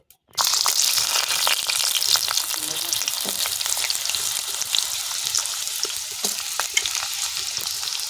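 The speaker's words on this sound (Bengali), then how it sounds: "তেল গরম হয়ে গেছে, কড়াইতে দিয়ে দেবো আলু।" Potatoes dropped into hot mustard oil in a wok, a loud sizzle bursting in after a brief quiet and continuing steadily up close with light stirring crackle.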